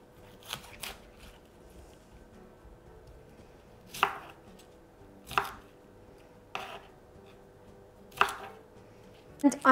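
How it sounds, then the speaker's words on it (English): Cauliflower being cut into small florets on a board, a series of distinct knife chops and crunches spaced a second or so apart, close and fairly clear against a quiet background, no talking. "And then just cut it into small florets."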